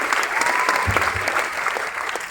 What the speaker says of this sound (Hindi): जोरदार तालियां होनी चाहिए अमरीश जी के लिए।